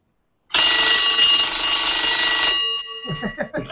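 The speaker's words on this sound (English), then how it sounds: "I will demonstrate the timer with the school bell" An electric school bell on a timer rings loud and continuous for about two seconds, then cuts off abruptly, leaving a brief fading ring before a voice begins speaking.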